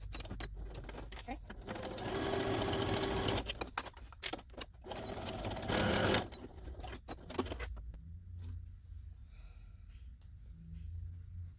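Domestic sewing machine stitching a dart on fabric with a short joining stitch, bursts of fast whirring motor interrupted by pauses and small clicks, with quiet speech between runs.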